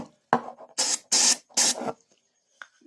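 Three short, loud hissing bursts of 20% ether starting fluid sprayed near the carburetor of a Harbor Freight Tailgater generator, each about a third of a second with brief gaps, followed by a faint click.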